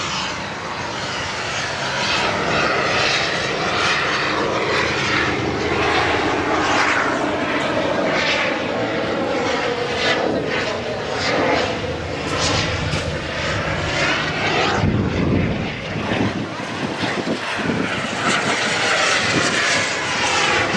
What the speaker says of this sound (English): Got some planes up here.